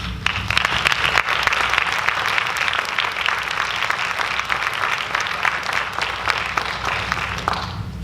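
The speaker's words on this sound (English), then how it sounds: "please stand up for a round of applause" Sustained applause from a conference audience honoring a planning committee, dense and steady for several seconds, loud and close with no talk over it.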